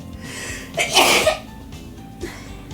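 One sharp, close sneeze bursts out with a quick inhale before it, heard over faint background noise in a quiet room, followed by a small sniff.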